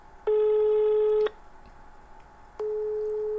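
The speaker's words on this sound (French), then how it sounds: "Pourquoi ça fait une double sonnerie, là?" Two separate electronic telephone tones sound in turn, each a steady buzzing ring about a second long, with a short quiet gap between.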